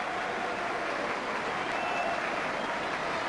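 A football stadium crowd at Oxford United versus QPR in 1997 applauds as substituted player Martin Aldridge leaves the pitch, a steady, distant wash of clapping and crowd noise throughout.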